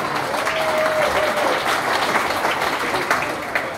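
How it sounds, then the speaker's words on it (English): A room full of gig-goers applauds their leaders, thick sustained clapping at a fairly loud level with a faint whistle near the start and some crowd murmur mixed in. "Give them a round of applause."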